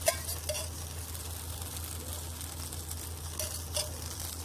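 Semolina batter cooks over a slow flame on a non-stick tawa with oil added around the edges, giving a steady soft sizzle and faint scraping, close and alone without talk.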